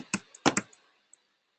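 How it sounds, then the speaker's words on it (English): A few quick keystrokes on a computer keyboard sound in a quiet room: soft, close clicks in a short irregular burst, then a single late tap. "I'm going to type in,"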